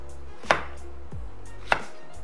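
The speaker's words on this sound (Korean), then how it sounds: "가지를 한번 썰어 보겠습니다" A knife cuts through eggplant on a cutting board in two sharp, separate chops about a second apart, close and clear with no talking.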